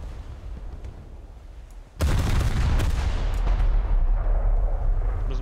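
A tank cannon firing in the War Thunder video game, one sudden loud blast that rolls into a sustained heavy rumble and crackle, following a quieter stretch of engine noise.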